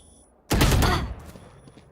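Gunfire in the tactical shooter Valorant: one loud, sharp burst of shots ringing out close, decaying over about half a second, followed by quieter game noises and faint echoes.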